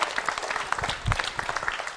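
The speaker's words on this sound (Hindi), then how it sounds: "निशा जी के लिए तालियां जोरों से बजाइए" A school quiz show audience applauds loudly for a contestant, a dense, lively burst of many hands clapping close by, briefly punctuated by a low thump.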